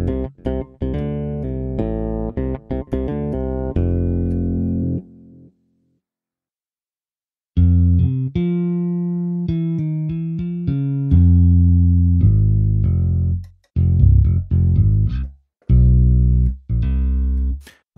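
Toontrack EZbass plugin playing funk octave lines on a virtual bass guitar, punchy plucked notes jumping between registers in bursts separated by pauses, loud and up front with no voices.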